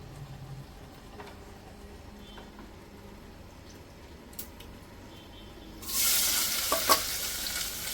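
Quiet kitchen ambience, then a sudden loud hiss as asafoetida and mustard seeds hit hot oil, sizzling steadily with a few crackles and pops.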